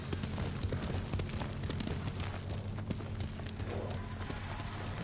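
Several horses galloping in a rapid, continuous clip-clop of hooves, dense and fairly loud, with faint voices mixed underneath.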